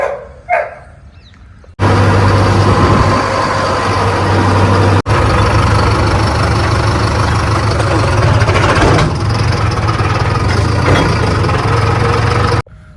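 A Sonalika Tiger 4x4 diesel tractor engine idles loudly and steadily close by, a constant low rumble that cuts off abruptly near the end.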